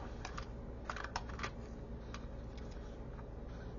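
Film being rewound in a Nikon F2 camera makes soft, irregular clicking and ratcheting ticks up close, over a steady background hiss.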